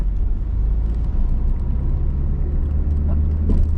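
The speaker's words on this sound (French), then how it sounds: "Et on met la 2. Allez, et on accélère." Car driven by a learner in a driving lesson, accelerating in second gear: a steady, loud engine drone with low rumble rising in pitch, heard close from inside the cabin.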